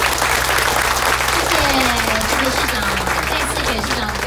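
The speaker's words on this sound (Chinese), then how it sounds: "热烈掌声鼓励" A crowd applauds steadily and loudly at a blessing ceremony marking the completed lifting of the Anxin Bridge tower on New Taipei's Ankeng light rail line, with dense, unbroken clapping throughout.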